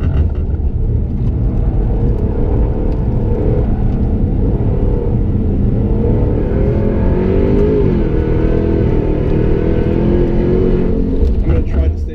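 Jaguar F-Type R engine pulling hard around a figure-eight track, a loud steady rumbling drone with a rising pitch sweep partway through, heard from inside the car over constant road noise.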